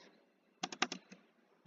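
A short, quick burst of about five keystrokes on a computer keyboard in a quiet room, followed by a pause and one more keystroke, heard close and moderately soft.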